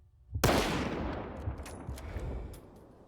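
A single sharp M701 rifle shot in S.T.A.L.K.E.R. 2 cracks loudly, then rings out in a long reverberant tail with faint after-ticks over about two and a half seconds, with no one talking.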